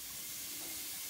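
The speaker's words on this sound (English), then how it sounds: "We're going to start with our bacon. Get the pan like medium high heat." Bacon frying in a pan over medium-high heat gives a steady, dense sizzling hiss that stays even and close from start to finish, with no talking.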